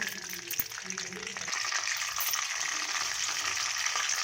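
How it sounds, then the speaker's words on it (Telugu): Mustard seeds and cumin crackle and sizzle in hot oil in a pan for an amla pickle, a steady bright frying hiss that swells after a brief quieter start, with faint clatter underneath. "పాన్లో ఆయిల్ వేసుకొని ఆవాలు జీలకర్ర"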